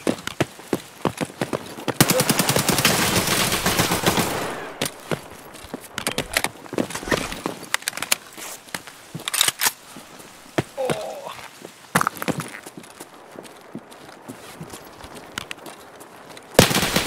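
Automatic gunfire rattles in Escape From Tarkov, with many sharp shots in rapid irregular bursts and a sustained burst of fire partway through. The shots are loud and close, and no one speaks.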